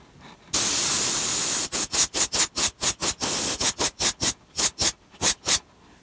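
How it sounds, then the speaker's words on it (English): An aerosol can of silver spray paint hisses in one long spray onto a wooden bass swimbait, then in a rapid series of short bursts with brief gaps, close to the microphone. "Now I'm spraying silver on the belly."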